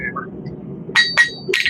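Metal clinks from a hammer striking metal in the blacksmithing video game Knightsmith, three bright, short strikes in quick succession over a low murmur of background sound.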